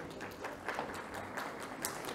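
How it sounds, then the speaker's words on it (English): An audience claps steadily at a startup panel session welcoming young Indian founders, a dense, continuous patter of applause heard from within the hall. "kindly give a big hand of applause to our young startups of India"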